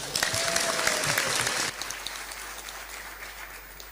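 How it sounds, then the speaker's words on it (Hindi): An audience at a Hindu religious discourse bursts into loud applause, dense clapping for a moment and then thinning into softer, scattered claps. "तो मैं सबसे पहले को धन्यवाद देंगे तालियां बजाकर"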